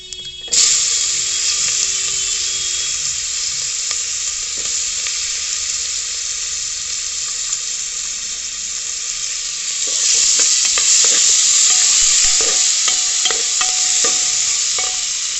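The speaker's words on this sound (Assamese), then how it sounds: "এতিয়া অনিয়নখিনি ঢালি দিম" Onions hit a hot pan and sizzle loudly and continuously, with a brief scrape of stirring, then the frying swells brighter again near the end.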